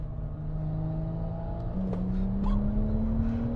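A tuned car with anti-lag engaged accelerates, its engine tone climbing steadily under a droning hum, with a few brief pops and crackles mixed in, heard from inside the car at moderate loudness.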